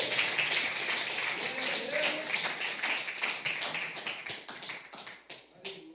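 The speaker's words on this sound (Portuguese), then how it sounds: "Let's put our hands together for the Por Lord" Church congregation clapping along in rhythm, a steady dense patter of hand claps filling the room with some voices mixed in, tapering slightly toward the end.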